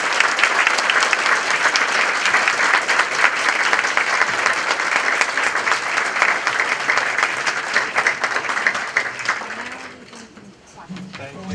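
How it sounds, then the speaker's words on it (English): A city council candidates' event audience breaks into sustained applause, dense steady clapping from a crowd that fades toward the end before a voice begins speaking. "Let's give them a round of applause."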